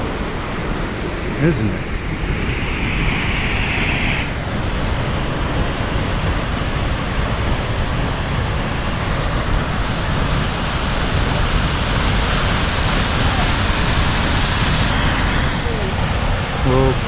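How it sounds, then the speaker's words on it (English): Big waterfall at Wailea Falls on Kauai, a steady broad roar of falling water heard throughout, with brief speech over it. "Well, it's a big waterfall,"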